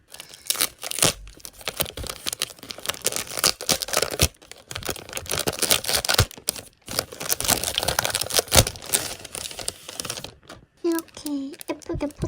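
A package of sticker goods is torn open up close, with a steady run of crinkling plastic rips and paper rustles. A brief voice comes in at the very end.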